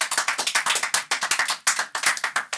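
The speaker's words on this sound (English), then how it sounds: "Let's give a round of applause for my man, June the Man." A round of applause during a podcast episode, a small group clapping briskly and close, with sharp uneven claps that fade in short bursts, no voices over it.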